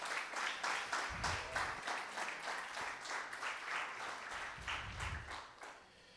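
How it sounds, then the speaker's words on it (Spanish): Applause for God from a congregation at a Christian church service: rapid, fairly faint clapping in quick rhythmic bursts, with a few heavier low thumps mixed in. It tapers off toward the end. "Así que dale un aplauso al Señor"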